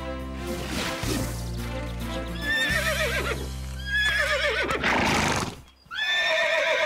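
A cartoon horse neighs loudly several times in a row, close by, with shrill whinnies over a low rumbling background.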